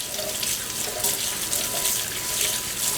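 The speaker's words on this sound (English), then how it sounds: "They generally say keep your hands under the water for like 20 to 30 seconds." A kitchen tap runs steadily while hands are washed beneath it, a close, continuous splashing hiss of water into the sink with no one talking.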